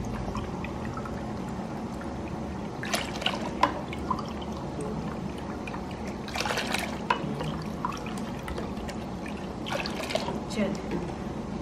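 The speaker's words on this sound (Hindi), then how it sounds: "4 कप सिरका डालें।" Vinegar poured into a large batch of homemade tomato ketchup made from 10 kg of tomatoes, a steady soft trickle of liquid with occasional splashy surges over a constant background hum.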